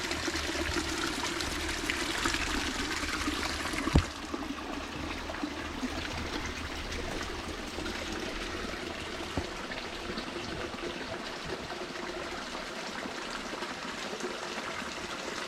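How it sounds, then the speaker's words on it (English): A countryside creek in rural Colombia runs steadily into a nearby river, a continuous broadband rush of flowing water heard close and fairly loud, with one brief bump partway through and no talking. "And you can hear the creek. It goes into the river over there."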